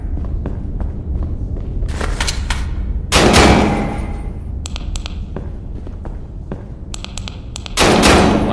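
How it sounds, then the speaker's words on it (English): Gunfire in a VR shooting game: repeated sharp shots and thumps over a busy background, with louder bursts of fire partway through and again at the end. "I damn near just shot that guy like 5 times in the ankles"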